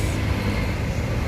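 PMTOH long-distance bus pulling away, a steady low engine rumble and road noise heard from inside the cabin.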